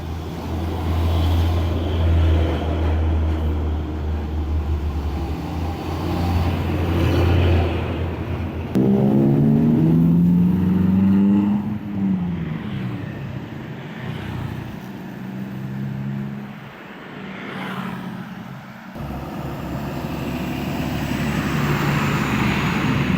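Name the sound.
road traffic passing by construction site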